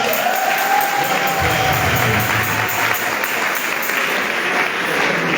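A church congregation at a Catholic charismatic renewal prayer meeting breaks into sustained applause, dense clapping with cheering mixed in, loud and steady throughout.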